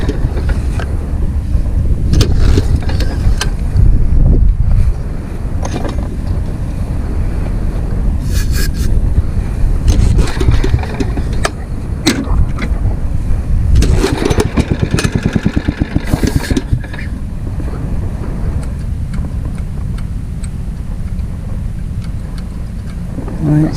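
A Ditch Witch trencher's engine bogs down under hydraulic load outdoors, giving a loud, continuous low rumble with uneven surges and wind buffeting the microphone.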